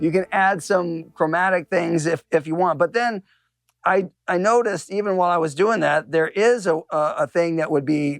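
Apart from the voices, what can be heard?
None of the usual background noises is heard.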